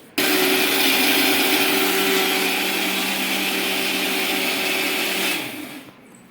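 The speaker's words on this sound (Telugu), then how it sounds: "ఇవన్నీ వేసుకొని మిక్సీకి అయితే గ్రైండ్ చేసుకోవాలండి కొద్ది కొద్దిగా వాటర్ వేసుకుంటూ స్మూత్గా గ్రైండ్ చేసుకోవాలి" Mixer grinder blending dosa batter with water, a loud steady motor whir with rough grinding texture that starts abruptly, holds for about five seconds, then winds down and stops.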